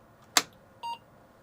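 A 486 computer gives a single short electronic beep on power-up, preceded by a sharp click, heard close and alone in a quiet room.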